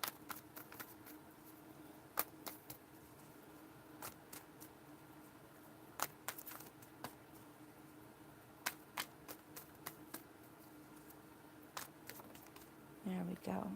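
Tarot cards being shuffled by hand, crisp snapping riffles and flicks recurring irregularly throughout at close range, quiet and dry, with brief talk near the end.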